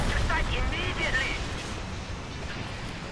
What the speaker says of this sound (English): I love those nice dull thuds. They make lovely explosion noises.